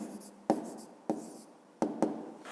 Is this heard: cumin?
no